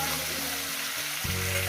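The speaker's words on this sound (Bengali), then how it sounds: "এটাকে আমি প্রায় 6-7 মিনিট ধরে আমি সুন্দর করে ভেজে নেব" Cauliflower and potatoes frying in a pan make a continuous close hiss of oil with a low steady hum underneath, brief and unbroken.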